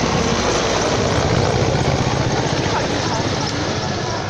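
Mi-171 transport helicopter, about 13,000 kg maximum takeoff weight, flying at an air show in Nitra: a loud, steady broadband rotor and turbine roar filling the whole clip without a break, with a voice talking over it.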